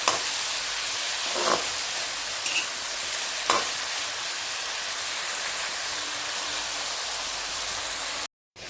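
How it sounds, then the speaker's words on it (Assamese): Bhol, a gourd, frying in a pan for an Assamese curry with rohu fish: a steady, even sizzle runs through the whole stretch with a couple of brief stirring scrapes, close up and with no voices. "এনেদৰে 5 মিনিটমান সময় ভাজি ল'ম, ভোলখিনি সিজি যোৱালৈকে"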